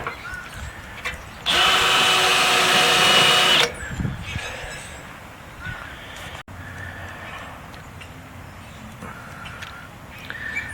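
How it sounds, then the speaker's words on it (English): A spot weld cutter bores into a car door's spot welds in a single loud, steady two-second burst of whining drilling, followed by quieter scraping and handling clatter in a workshop. "The only reason I'm going to use a spot weld cutter is because I like to save everything."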